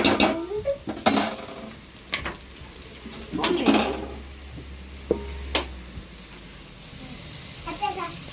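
Boiled chicken bones with turmeric are stirred in a pan: intermittent scraping clanks of a spoon against metal over a faint, quiet sizzle.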